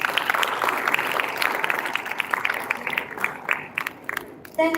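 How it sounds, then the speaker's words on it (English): Audience applause for contestants at a Gavel Club grand finale, a broad patter of clapping that thins toward the end before a brief sound at the close. "let's give our contestants a round of applause"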